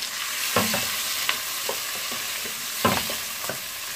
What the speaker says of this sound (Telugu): ఉల్లిపాయ, పచ్చిమిరపకాయ, వీటిని వేయించుకుందాం కాస్త.